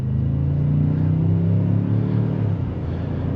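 A 2024 Ford F-150 King Ranch 4x4 with the 3.5L EcoBoost engine accelerates from inside the cab, a loud, deep engine rumble with a rising pitch that eases off near the end, without speech.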